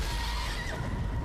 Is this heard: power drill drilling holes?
no